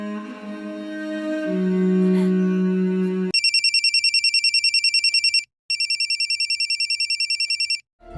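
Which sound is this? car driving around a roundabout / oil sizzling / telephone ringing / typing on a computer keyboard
telephone ringing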